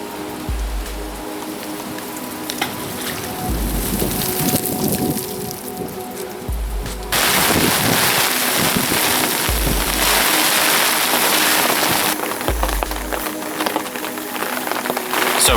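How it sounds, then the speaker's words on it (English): Steady rain patters loudly and continuously on a fishing umbrella at a lakeside, with occasional low thumps underneath and a brief quieter stretch partway through. "So it's just started to rain"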